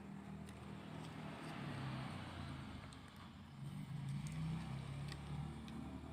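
A toy cement mixer truck from a set of construction-vehicle toys gives a steady, low rolling rumble throughout, fairly constant and moderately loud, with a faint surge partway through and no talking.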